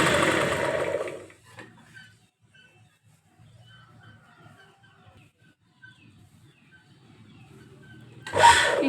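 Sewing machine with a regular presser foot runs in two short bursts, a fast mechanical whirr at the start and again at the very end, separated by near silence and faint handling noises.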